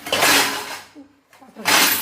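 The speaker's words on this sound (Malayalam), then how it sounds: "പാത്രങ്ങൾ വീണ്" Dishes fall and break in a home kitchen in two loud crashing bursts of shattering crockery, separated by a brief lull that carries a low murmur.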